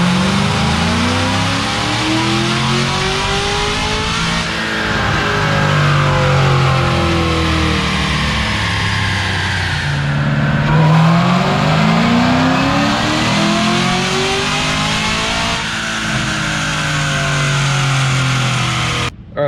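Supercharged LSA V8 in a Cadillac CTS-V roaring through dyno pulls, stock blower with a 2.4 upper pulley, custom camshaft and forged pistons, loud rising revs that climb, drop and climb again, then cut off abruptly.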